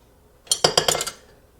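A small melamine serving spoon handled against other kitchenware, producing a quick burst of five or six light, hollow clinks and clatters close by, then quiet.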